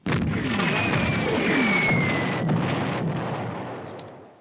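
Artillery fire in the Civilization II strategy game: one booming shot bursts out at the start, followed by a long rumbling tail and a thin whistling tone that fades away, with no voices.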